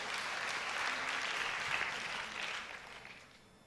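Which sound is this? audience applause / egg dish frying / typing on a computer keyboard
audience applause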